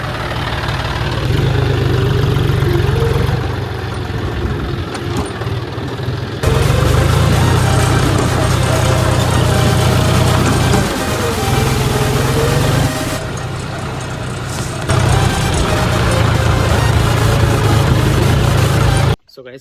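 A tractor engine idles on farmland, a continuous low, throbbing rumble with a steady vibrating drone. It stays loud and close for about twenty seconds, shifting slightly in tone partway through before cutting off abruptly at the end.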